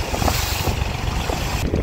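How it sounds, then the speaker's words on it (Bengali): Loud, rushing wind and water noise on a boat ride at sea off Bagda beach, with fishing boats passing by; a steady broadband roar with low engine rumble and no talk. "পরপর প্রচুর কিন্তু জেলেদের বোট যাচ্ছে এখান থেকে"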